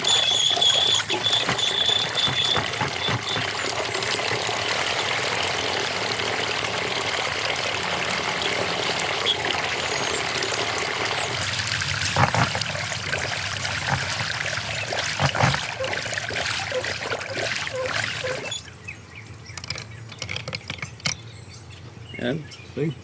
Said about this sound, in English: I just washed all that line on that reel and didn't even have to take the jig or anything off